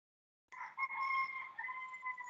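A rooster crows once in the background of a remote meeting call, a drawn-out tonal call with a slight pitch drop partway through, faint and distant with no talk over it.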